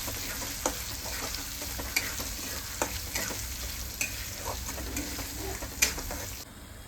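Spice masala sizzles steadily in hot oil while being sautéed for restaurant-style matar paneer, with a soft constant hiss broken by regular light taps of a spoon against the pan, close and fairly quiet.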